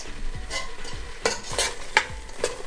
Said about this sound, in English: make sure you're consistently and constantly mixing this chickpea flour because you do not want it to burn